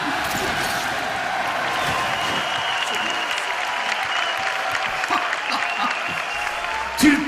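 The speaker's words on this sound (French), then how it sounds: "Saturdeman, on l'applaudit" Audience applause at a French gaming show session of Injustice: Gods Among Us, a dense, steady crackle of clapping lasting several seconds, fairly loud and close, with some crowd murmur mixed in.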